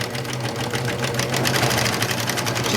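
A serger runs steadily through a channel on a pillow, giving a close, continuous whirring hum with a fast mechanical chatter that holds an even pace for the whole stretch, no talking.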